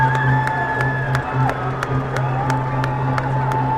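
Loud rugby crowd cheering and whooping at a Tygerberg versus UCT Ikey Tigers match, with sharp rhythmic claps or drum hits repeating about every third of a second.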